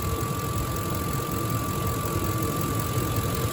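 A 2005 Ford F-150 V8 idles steadily, a close, even, low rumble with a faint constant whine and no speech.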